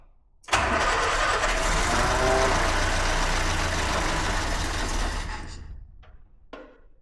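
A fire-damaged 1969 Ford Escort MK1 van with a carburettor cranks and catches, and its engine runs loud and steady for about five seconds before dying away. A few faint knocks follow, and no one speaks.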